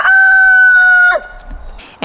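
A rooster crows once, loud and close, with a long sustained call followed by a short trailing note and brief clucks.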